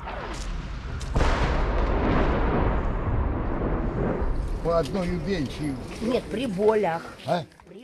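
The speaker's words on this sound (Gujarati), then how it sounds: "જ્યારે તેમનાથી થોડા જ મીટરના અંતરે બોમ્બ પડ્યો" A bomb lands a few metres away in a sudden heavy blast that rolls into a long, loud rumbling roar, then voices begin talking as the noise fades, in wartime Bakhmut, Ukraine.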